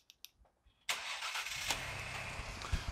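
A Ford Explorer engine cranks and catches after a few faint clicks, then settles into a steady, close idle with no talking.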